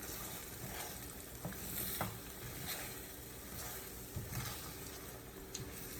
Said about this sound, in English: then I go in with my spatula and just start to, like, you know, push it in like you would scrambled eggs